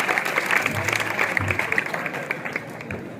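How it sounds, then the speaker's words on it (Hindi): Crowd applause in a village gathering at a district-level government school volleyball tournament in Sagatada, a dense steady patter of many hands with some voices mixed in. "जोरदार तालियां बजाएं"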